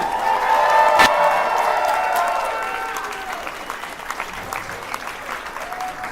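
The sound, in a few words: audience applause and cheering for dance performers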